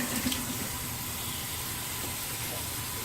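Steady tap water runs from a bathroom faucet during a rinse after a wet shave, a constant close hiss of flow with no break.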